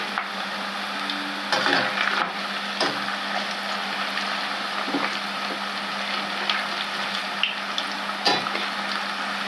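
Cauliflower pakoda and curry leaves fry in hot oil, a continuous close sizzle with occasional bursts of spatter and scraping as pieces are turned.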